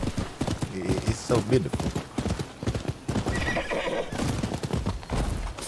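Hooves pound in a quick galloping clip-clop in the video game Rise of the Ronin, punctuated by a horse's whinny, while a person talks over the hoofbeats.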